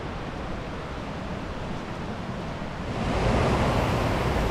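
Steady rushing water of a mountain creek flows nearby on the Rainbow Falls Trail in the Smoky Mountains, a continuous broadband wash that swells a little louder partway through, with no voices.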